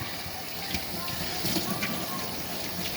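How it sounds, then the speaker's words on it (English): Running water from a tap rinsing vegetables, a steady broadband gush that carries on throughout at moderate level with small splashy bursts as produce is moved under the stream. "And I rinse really good"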